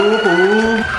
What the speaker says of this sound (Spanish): se activan las sirenas, se activan las sirenas